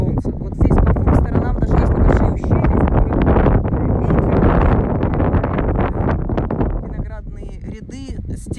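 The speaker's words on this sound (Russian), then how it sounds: "Ветерок." Breeze gusting across an open vineyard slope in Vosne-Romanée, Burgundy, heard as loud, steady wind buffeting the microphone for several seconds before easing slightly toward the end.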